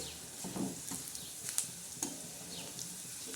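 Garlic tadka for a mixed toor and moong dal sizzles steadily in hot oil, with a continuous close hiss broken by occasional sharp crackles and spatters.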